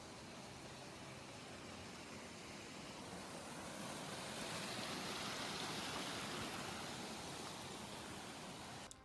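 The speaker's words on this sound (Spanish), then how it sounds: "todavía nos acompañen los sonidos de las cascadas y los arroyos" Mountain streams and waterfalls along a lakeside trail rush in a dense, continuous wash of flowing water, steady and enveloping, with no voices.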